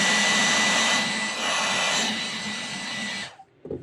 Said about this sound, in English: Using a hair dryer today